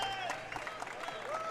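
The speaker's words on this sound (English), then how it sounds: "another round of applause from everyone" Audience applause at a Bitcoin conference, a steady wash of clapping from a large crowd with a few brief tones sounding over it, filling the whole moment.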